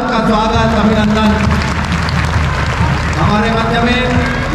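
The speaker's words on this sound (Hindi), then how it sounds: "एक बार जोरदार ताली से आपका स्वागत अभिनंदन।" Loud, dense applause from an audience welcoming a guest at a birthday celebration in a Haridwar hall, sustained throughout while a voice speaks over it.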